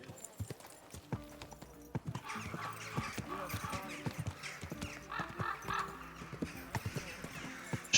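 Horse hooves clip-clop in Kingdom Come Deliverance 2, an irregular run of sharp close hoofbeats with a neigh in the mix and a speaking voice over the top.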